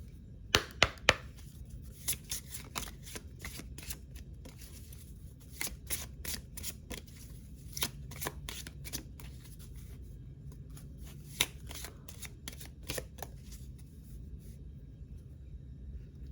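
Oracle cards shuffled by hand, a quiet series of rapid riffling and tapping bursts, close and alone, repeating irregularly over a soft background.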